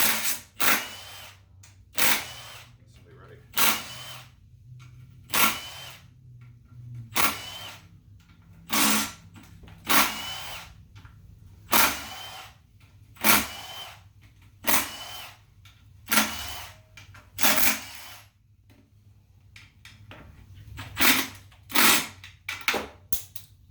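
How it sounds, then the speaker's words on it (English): An impact or power drill zips transmission case bolts off a Honda CR-V AWD gearbox in repeated short, loud bursts about every second or two, each separated by brief quiet, with no talking. "I'll just take the case bolts off."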